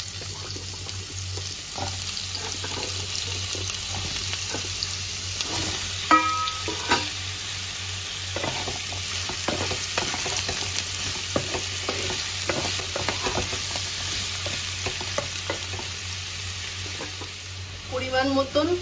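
Cut bottle gourd frying in oil tempered with black cumin, a steady close sizzle throughout with occasional stirring clatters and scrapes of the spatula.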